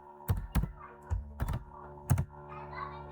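Python code is typed on a computer keyboard in a few sharp, uneven clacking keystrokes with short pauses between them, close and clear, with no talking.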